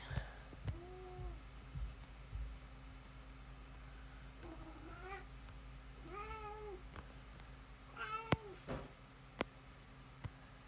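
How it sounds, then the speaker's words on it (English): A house cat meows for attention, giving several faint, rising meows spaced a few seconds apart over a quiet indoor hum, with a few sharp clicks in between. "My cat is very much trying to get my attention."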